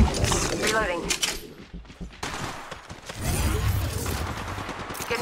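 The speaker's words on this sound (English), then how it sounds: "Getting shot at." Gunfire in the Apex Legends Mobile shooter game, with rapid bursts and volleys of shots, loud and close, overlapping one another through the clip.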